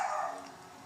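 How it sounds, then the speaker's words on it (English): A dog barks once, a short, faint yip in the background of an indoor room, fading quickly. "my dog's barking"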